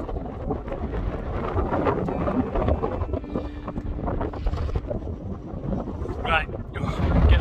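Strong wind buffets a microphone on a Lake District mountain top, roaring and gusting steadily with rising blasts toward the end, loud and close.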